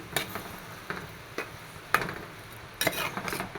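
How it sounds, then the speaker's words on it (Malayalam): A spoon scrapes and knocks against a pot of curry in several separate strokes, with a soft sizzle underneath between them; close and fairly quiet. "ഇതൊന്ന് നന്നായി ഇളക്കിയിട്ട് മൂടി വെച്ച് കൊടുക്കാം"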